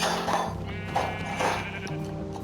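A sheep in the Minecraft video game bleats several times, clear and steady over a constant game background, with no talking.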